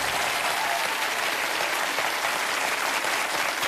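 Studio audience at the Hot Seat quiz game show breaks into loud, sustained applause and cheering, a dense continuous wash of clapping throughout.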